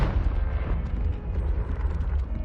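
A fiery Confringo spell blast in the Hogwarts Legacy video game rumbles as a deep, sustained explosive roar with churning low debris noise, loud and close, ending with a brief sharp flare.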